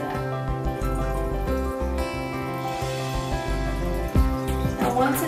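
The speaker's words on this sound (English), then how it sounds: "we're going to get our bottle of water, and we're going to pour it all the way in until it is full" Water from a bottle pours into a coffee machine's reservoir, a steady trickling fill with gurgles and drips heard close, its pitch rising slightly as the tank fills.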